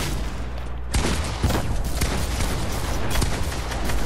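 Continuous rapid gunfire in the shooter game Fortnite, dense overlapping shots with a few sharper cracks standing out, loud and close with no clear talk.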